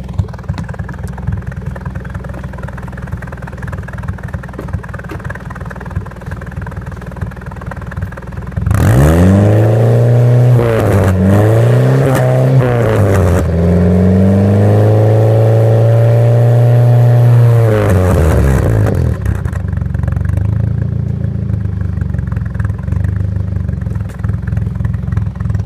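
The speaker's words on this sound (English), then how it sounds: "Let's go listen up to the exhaust." A Chevy Cavalier Z24 convertible with a modified glass-pack exhaust idles with a low steady burble, then revs repeatedly in loud rising and falling sweeps for about ten seconds before settling back to idle, close to the tailpipe.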